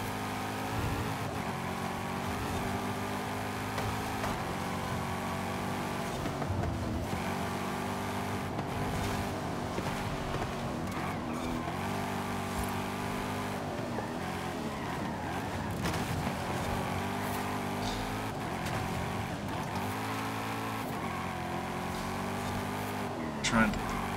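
Race car engine in Forza Horizon 5 drones steadily throughout, with the pitch rising and dropping through gear changes on cornering, loud and continuous under a talking voice.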